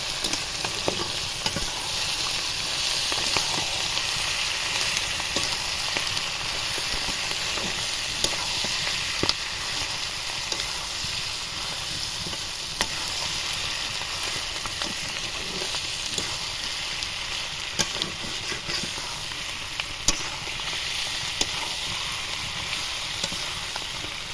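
Chicken skin frying with salt in a pan, a steady dense sizzle with crackling pops running continuously and alone, no voices.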